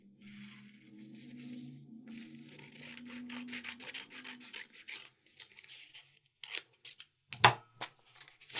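Scissors cut a small window along a drawn line in paper, giving soft rasping snips and rustles that grow sharper and more broken toward the end, close by and without talk.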